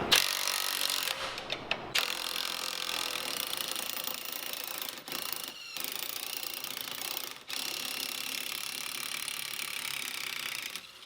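An impact gun or similar power tool loosens an 18mm bolt on the suspension of a BMW E92 M3 during a coilover install, a loud continuous mechanical buzz with two brief breaks, close and with no talk.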